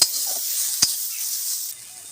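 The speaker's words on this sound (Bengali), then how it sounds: "ভালো করে ভেজে নেবো।" Fenugreek leaves frying in ghee in a pan give off a steady close hiss with a single sharp clink early on, then the sizzle drops quieter near the end.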